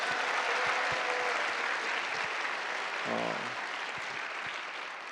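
Steady applause from an audience at a Korean youth talk-concert lecture, dense and continuous throughout, with a brief low tonal sound like a voice or instrument briefly cutting in midway before the clapping slowly thins.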